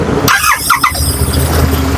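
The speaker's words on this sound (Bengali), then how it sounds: "GT 650 সাউন্ড তো শোনাবোই দাদা" A GT 650 motorcycle at a bike dealership starts up with a sharp mechanical squeal and whir of the starter catching, followed by a loud, close engine settling into a rough, steady idle.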